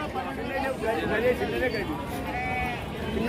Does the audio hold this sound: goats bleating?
yes